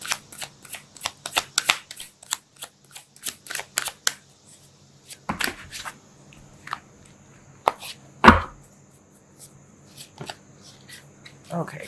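Tarot cards shuffled by hand in bursts of sharp riffling clicks, loudest early on and then sparser, with a quieter voice talking between the shuffles.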